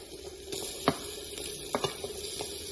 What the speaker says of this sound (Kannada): ಅದು ಹಾಕಿ ಚೆನ್ನಾಗಿ ಫ್ರೈ ಮಾಡ್ಕೋಬೇಕು ಇದು ಇವಾಗ ಹಾಕ್ತೀನಿ ನೋಡ್ರಿ ಇವಾಗ ಲಿವರ್ ಹಾಕ್ತೀನಿ ನೋಡ್ರಿ